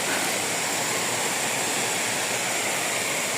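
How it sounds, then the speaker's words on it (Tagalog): Water pours over Antag Falls' second falls near Davao, a steady, even broadband rush that stays constant and moderately loud throughout, with no voices heard. "may isa pa pala ditong talon"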